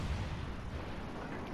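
Heavy naval guns of the British battleship HMS Vanguard firing a volley in World of Warships Legends, a deep sustained rumbling roar filling the moment.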